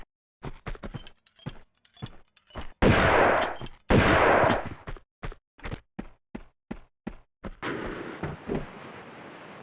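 An M16 rifle fires in Tomb Raider 2 on PlayStation, giving sharp single shots and short bursts with brief gaps between them. Two longer, heavy rolling blasts stand out among the loud, close reports.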